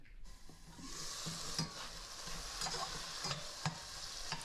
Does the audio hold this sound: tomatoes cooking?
yes